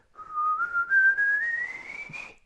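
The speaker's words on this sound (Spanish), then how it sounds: "Chiflar y moverte con tu silbido de arriba hacia abajo se provoca moviendo la lengua" A single clear whistle glides slowly upward in pitch as the tongue moves, a smooth continuous tone heard up close with no talking.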